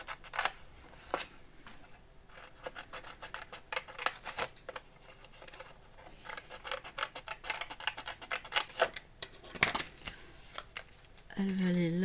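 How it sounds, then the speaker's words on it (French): Scissors cutting through a paper strip with words on it, a quick series of close, crisp snips and paper rustles during a papercraft build, with someone talking in between. "Je vais découper la bande."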